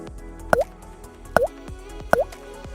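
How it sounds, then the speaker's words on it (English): Three evenly spaced liquid plops of cleaner poured into a car's gas tank, each a sharp drip-like splash with a short tail, close and distinct against a quiet background. "Simply pour the cleaner into the gas tank."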